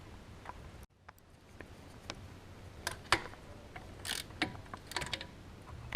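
A ratchet loosens a bolt on a Duramax LMM engine during a thermostat replacement, making close, sharp clicking bursts and metallic ticks in irregular runs with no speech.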